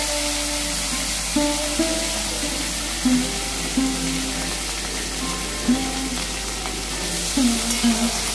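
Chopped tomatoes sizzle in hot oil seasoned with whole cumin, bay leaf and dried red chili for a Bengali arhar dal, a steady loud frying hiss with faint musical tones layered above.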